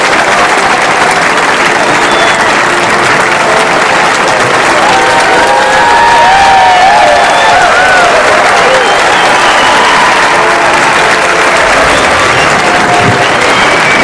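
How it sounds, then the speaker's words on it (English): Loud, steady audience applause fills a concert hall after a symphony orchestra performance in Charleston, with scattered cheers rising through the dense clapping for the full length. "Please give a round of applause for favorite family time."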